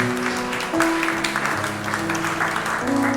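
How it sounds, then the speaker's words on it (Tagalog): Congregation applauding inside a church during a Sunday worship service, a steady wash of clapping mixed with sustained organ or keyboard tones beneath, fairly loud and continuous throughout. "Isang malakas na palakpak po para sa ating Diyos kataas-taasan."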